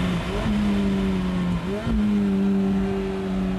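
A Ferrari F430 Spyder with a 490-horsepower engine revving hard while driving, its loud close engine note rising and falling in pitch through a brief dip before climbing again.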